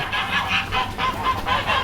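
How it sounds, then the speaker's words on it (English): Repeated loud honking from a flock of geese, overlapping calls in a rapid, steady rhythm, nearby and alone. "The geese are going crazy."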